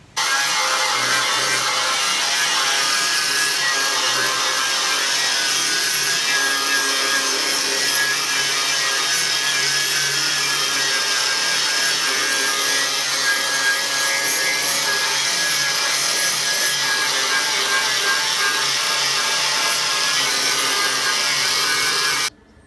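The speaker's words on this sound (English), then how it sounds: "grinder with a flat disc. I'm just going to clean this up like this bit here" An angle grinder fitted with a flat disc cleans up the metal sill of a classic Fiat 500 before welding, a loud, continuous abrasive whine and rasp sustained without pause from start to finish.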